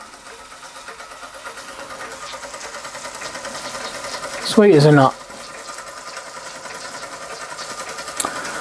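A 1948 Mamod Minor 2 model steam engine runs with a steady, faint mechanical chatter, broken by a short louder burst of steam near the middle, while someone speaks briefly over it.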